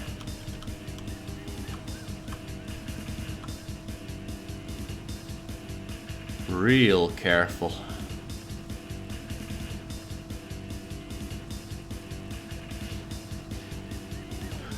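A car in the driving game Driver runs with a steady engine drone, while a brief voice speaks midway over it.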